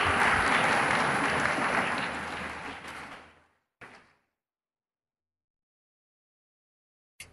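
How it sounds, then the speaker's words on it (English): An audience in Chhattisgarh applauds a speaker with loud, sustained clapping from many hands. It fades out over about three seconds into silence, broken only by two short thumps. "A big round of applause for Nandini Yadav."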